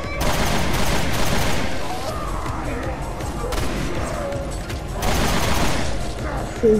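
Machine gun fire in Resident Evil Revelations 2 rattles in loud, dense bursts with crashing impacts, continuing through most of the stretch, while players talk over it.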